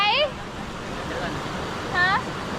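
Water rushes in a steady, even roar at tier one of the four-tier Chet Si waterfall in Bueng Kan, Thailand, with a couple of brief high voices calling out over it.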